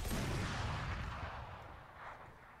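Grenade blast in the game Valorant on the Icebox map: a single heavy boom at the start, then a rumbling decay fading over a couple of seconds, fairly quiet overall and with no talk.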